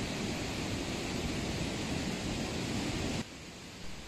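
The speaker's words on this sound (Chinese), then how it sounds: "这是我见到过这个河水最大的一次" A mountain river swollen by heavy rain roars past as a steady, loud, broadband rush that drops abruptly to a softer wash near the end.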